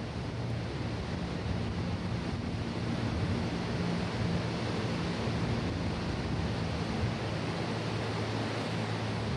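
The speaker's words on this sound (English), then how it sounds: "As the water falls down the long plunge, it spools in air and causes a wild storm right beneath." Angel Falls in Venezuela, the world's tallest waterfall, with its long plunge stirring up a wild windstorm below: a steady, dense roar of falling water and rushing wind, loud and unbroken throughout.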